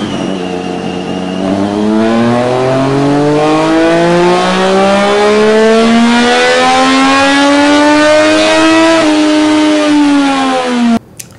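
A three-cylinder motorcycle engine's exhaust revs loud and close, its tone climbing steadily through a long rising pull before easing off and cutting out abruptly at the end.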